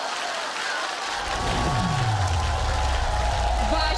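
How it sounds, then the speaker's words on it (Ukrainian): An audience applauding after a child's singing performance in a televised competition final, a dense, steady wash of clapping that swells after the first second and carries on loud, with a voice faintly underneath. "Ваші оплески"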